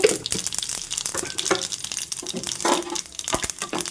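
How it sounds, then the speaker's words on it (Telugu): Tempering seeds and dried red chillies splutter in three teaspoons of hot oil, giving a busy, irregular crackle and sizzle of sharp pops that carries on without any talking. "చూడండి చిట్టపట్లాడుతూ ఫ్రై అయిపోయాయి"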